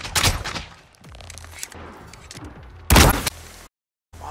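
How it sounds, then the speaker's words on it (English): Grenades going off in a Call of Duty battle royale match: several sharp, loud bursts, a cluster at the start and a big blast near the end, with scattered thuds and game effects between, no voices. "That's grenades."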